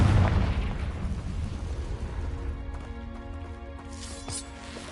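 A Confringo explosion spell from a Harry Potter video game bursts as a loud, deep boom at the start, then rumbles and fades under sustained tonal game music.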